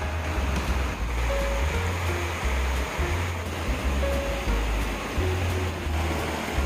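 Water from the Magundam valley stream below Magunbong rushes steadily at the Sari village washing place in Sancheong, a continuous close, even wash with faint low tones beneath.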